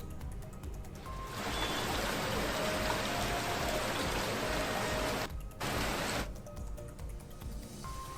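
Heavy rain pours down in Uttarakhand as a steady, dense hiss of falling water, loud and continuous throughout, briefly cutting out before resuming.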